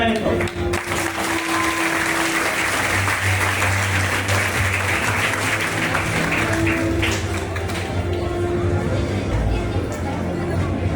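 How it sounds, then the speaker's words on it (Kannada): Applause in a Bengaluru auditorium during an education festival, a steady crowd clapping at moderate loudness mixed with chatter and murmuring voices throughout. "ಚಪ್ಪಾಳೆ ಕಡಿಮೆ ಆಯಿತು."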